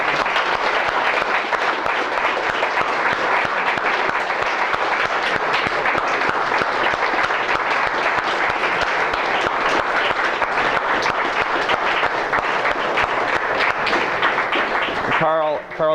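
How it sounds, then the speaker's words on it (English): Audience at a university exam review session applauding the course staff, a long, full, sustained round of clapping from many people that stops abruptly near the end as a voice begins. "I'd like to give them a round of applause."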